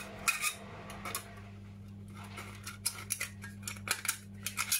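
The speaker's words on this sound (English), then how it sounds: "So you're going to cut right down and roughly you're going to end up with five petals." Scissors snipping down through tin-can metal to form flower petals, a series of sharp clipped cuts and scrapes over a steady low hum, close by.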